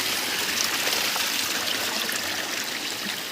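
A clear stream flows steadily at an outdoor nature spot, giving a continuous broadband rush and trickle of water throughout, close and fairly loud, with no talking.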